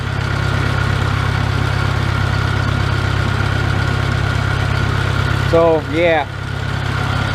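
A Farmall Cub tractor engine idles with a steady low, even thrum throughout, and someone speaks briefly over it near the end.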